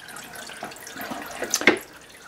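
Coolant trickles in a small stream from a suds pump delivery system, a soft continuous watery flow with a few brighter splashy drips near the end.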